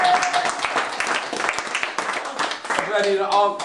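Fans applaud inside a family home in Spelle, a fairly loud, dense patter of clapping from a small crowd lasting throughout, with voices and laughter mixed in toward the end.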